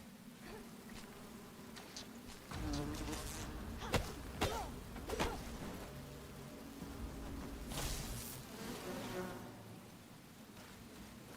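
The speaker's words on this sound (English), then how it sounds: "Darn bees." Bees buzz in the game Enshrouded, a thin, wavering drone that rises and falls around a few sharper swells, moderately close and fairly quiet against a low background.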